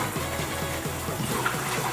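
Water splashing and running while a container is rinsed out, a steady wet wash with a low pump-like rhythm pulsing underneath, close and continuous throughout.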